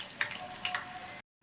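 Chicken pakoras frying in hot oil, giving a brief, steady close sizzle with a few small pops before cutting to silence.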